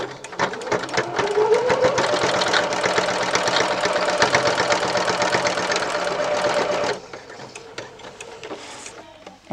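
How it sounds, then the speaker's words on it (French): Sewing machine stitching down the side pleats of a cotton AFNOR fabric face mask, a loud, close, steady run of rapid needle clatter that lasts about seven seconds, then stops and leaves quieter handling noises. "on va coudre le côté de nos plis pour les maintenir"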